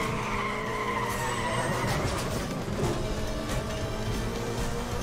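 Need for Speed The Run racing game car drifting, with a steady high tire squeal over a loud, continuous engine roar, close and unbroken throughout.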